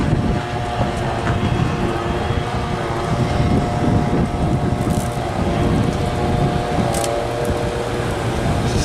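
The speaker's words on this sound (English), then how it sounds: "This is low fan speed." A Zenith or Gibson 5000 BTU window air conditioner runs on low fan speed, giving a loud, steady whooshing drone with a faint mechanical hum and no voices.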